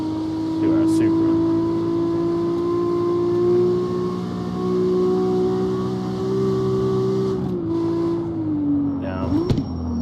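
A Toyota Supra's engine in the CarX Street drift game hums loud and steady, then its pitch drops sharply at a gear shift near the end.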